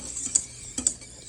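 A spoon stirs lemon no-bake cookie mixture in a pot just taken off the heat, giving a few quick metallic scrapes and clinks close by with no talk.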